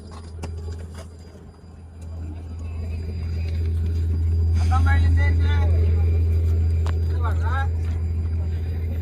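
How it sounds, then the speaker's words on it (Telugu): A river ferry crossing the Pulichinthala backwaters gives a steady, loud low engine drone throughout, with voices talking over it. "బల్లకట్టు వెళ్తుంది, కదిలింది అప్పుడే."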